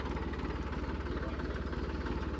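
A tractor engine idles steadily during a cultivator demonstration, a continuous low rhythmic chug with even pulsing throughout, close and moderately loud with no talk.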